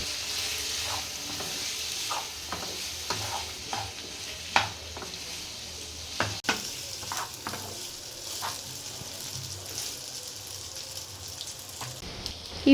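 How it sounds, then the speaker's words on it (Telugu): Cooked pasta is tossed with masala in a hot pan, giving a steady soft sizzle broken by repeated light clicks and scrapes of a spoon against the pan, close and even. "ఇప్పుడు మనం కుక్ చేసి పెట్టుకున్న పాస్తాను వేసి మసాలాలన్నీ బాగా పట్టేలాగా కలుపుకోవాలి."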